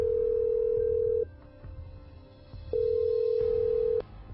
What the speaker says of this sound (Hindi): प्रकाश ने तुरंत कमिश्नर सावंत को फोन लगा दिया